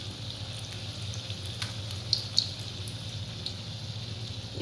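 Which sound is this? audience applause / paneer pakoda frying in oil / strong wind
paneer pakoda frying in oil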